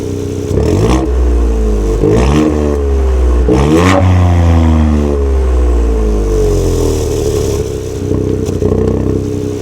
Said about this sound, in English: So now I'm also going to do a rev view with the valve closed.